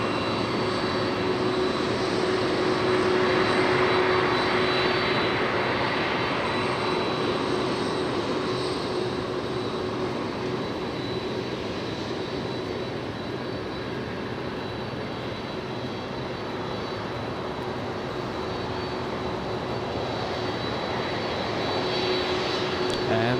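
DHL Boeing 767 cargo jet at LAX, its engines giving a steady, fairly loud broadband roar that swells slightly early and holds throughout, with a faint tonal whine layered on top.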